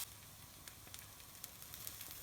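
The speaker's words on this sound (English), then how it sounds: "we're going to do now is just stir fry these ingredients together in the pan like so" Chilies, garlic and ginger stir-fry in a pan with a quiet, steady sizzle flecked with small crackles and pops.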